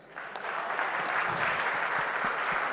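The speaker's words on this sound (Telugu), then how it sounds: "ఈ సినిమా క్లాప్స్ కొట్టరా" Audience applause breaks out at a Telugu film event, rising quickly into a steady, dense clapping from a crowd that carries on without a break, with no talk over it.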